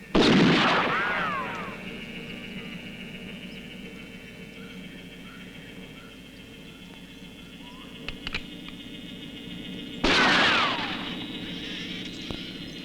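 Gunfire in a 1972 jungle adventure film, two loud sharp shots about ten seconds apart, each ringing out and decaying over a faint ambient background with a brief crack between them.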